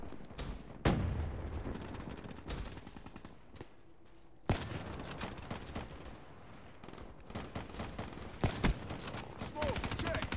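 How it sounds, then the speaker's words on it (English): Rapid bursts of gunfire in a first-person shooter video game, sharp cracks and rattling automatic volleys separated by brief lulls, close and loud, with a player's voice speaking faintly beneath. "I keep shooting at my teammates."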